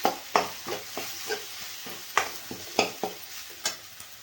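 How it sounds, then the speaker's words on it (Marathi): Spice masala fries with tomatoes in a pan for an aubergine and potato dish: a low sizzle punctuated by repeated sharp scrapes and taps of stirring, about a dozen strokes, with no talking. "टोमॅटो चांगले विरघळेपर्यंत आपल्याला तळून घ्यायचा आहे मसाला"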